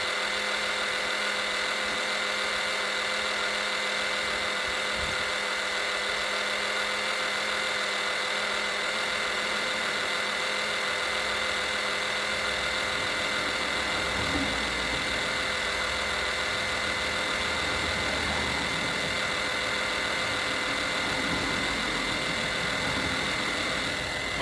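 A steady electric oil extraction pump whirs continuously with a constant mechanical hum, running nearby without pause while drawing engine oil from a Mercedes SLK R170.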